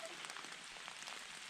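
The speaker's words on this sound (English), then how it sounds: "even though it's raining, the forest is still really pretty." Steady spring rain pattering on leaves and ground in Zaleski State Forest, a dense, even hiss of drops all around with no talk.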